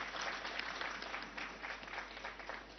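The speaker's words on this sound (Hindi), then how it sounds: "तालियां बजाकर हम स्वागत करें" A seated audience at a Ram Temple inauguration programme applauds to welcome a guest scholar, a steady, soft wash of many hands clapping at a distance with no voices on top.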